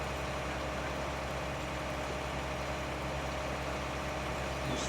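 A tractor with a cultivator attached idles in a farming video game, giving a steady low, even engine drone that runs unbroken throughout.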